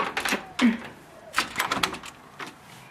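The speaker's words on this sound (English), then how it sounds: "So we open the front door" A house front door opens with a few short clicks and knocks from the latch and handle, a soft thud and scattered light rattles in a quiet, empty home.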